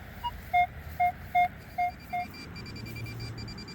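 A metal detector at a riverside regatta site sounds a run of five clear, evenly spaced tone beeps as it passes over a target, close and distinct, then falls back to faint background hiss.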